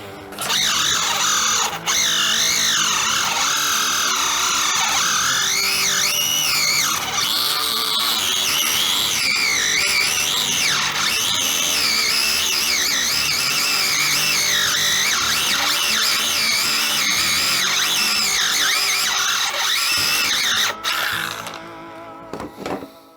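Scalextric slot car wheels spin at speed against sandpaper to true the rubber tyres, producing a loud, continuous high whine that rises and falls in pitch, ending with a brief click and quiet.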